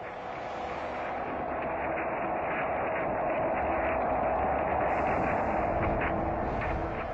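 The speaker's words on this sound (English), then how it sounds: "Picked up by the orbiting SOHO satellite, this is the sound of the sun." Sonified sound of the sun picked up by the orbiting SOHO satellite, a dense continuous roaring hiss that swells slightly and stays steady for several seconds, with no voices.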